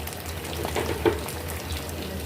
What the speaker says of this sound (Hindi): अब इसको हम दूसरी साइड से फ्राई कर लेंगे